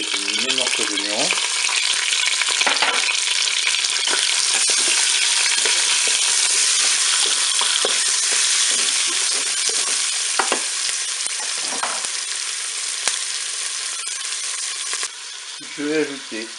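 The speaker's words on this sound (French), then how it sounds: "Je vais ajouter mes morceaux d'oignon." Onion pieces fry in a Cookeo pot after pork, a loud continuous sizzle with repeated spoon scrapes and knocks against the pot, rising and falling as they are stirred.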